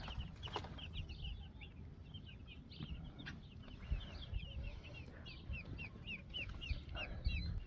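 Many high, soft peeps from chicks chirp continuously over a rustling, busy background, with a few louder clucks mixed in.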